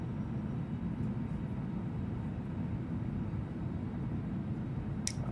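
Simulated cabin sound of a Headwind A339X airliner in Microsoft Flight Simulator using the FTSIM sound pack, a steady low engine drone and airflow rumble that stays even and moderately quiet throughout, with a brief faint click near the end.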